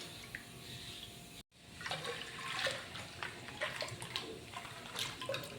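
Thick milk, one litre, poured into a pot for milk payasam, a soft steady liquid gush that starts after a brief silent break and keeps running quietly to the end.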